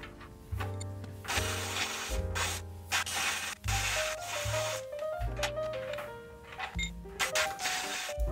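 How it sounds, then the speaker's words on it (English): A spray can coats a welded cam tab gusset on a third-generation Toyota Tacoma in short, close hissing bursts with brief gaps, while music plays underneath. "I'm gonna go ahead and put a little paint on it so it won't rust."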